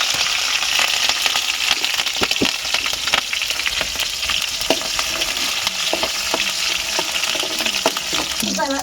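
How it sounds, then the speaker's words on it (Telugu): Chillies crackle and sizzle steadily in hot oil in a pot during tribal home cooking, a dense, continuous frying hiss with small pops and occasional stirring clinks throughout, close and fairly loud. "ఇప్పుడు ఈ సామాన్లు మొత్తం వేపేయాలన్నమాట ఆయిల్ అయితే పోస్తాం మిరపకాయలు ముందు వేసేదా"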